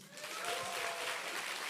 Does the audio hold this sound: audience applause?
yes